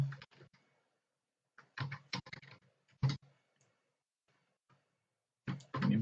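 Keys clicked on a computer keyboard while code is entered for a Spring microservices config server, in several short clustered bursts separated by pauses, close and fairly crisp.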